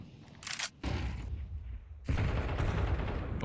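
Gunfire in a Counter-Strike match on the Anubis map: loud bursts of shots and thuds, with a sharp broadband blast near the start and a dense, sustained barrage in the second half.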